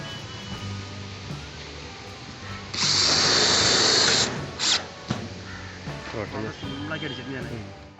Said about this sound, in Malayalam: ഇനി നമുക്ക് ഷീറ്റിനെ ഒരു സെൽഫ് ബോൾട്ട് അടിച്ചിട്ട് ഒന്ന് ടെസ്റ്റ് ചെയ്ത് നോക്കാം.